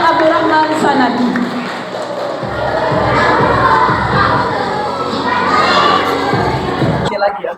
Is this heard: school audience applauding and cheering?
yes